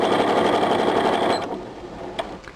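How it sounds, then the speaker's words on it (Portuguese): A Janome 2018DC sewing machine stitches steadily on its own at a set speed in a rapid, even whir, then stops, leaving a few faint clicks near the end. "ele vai começar a costurar lentamente e vou soltar. E aí a máquina vai costurar sozinha"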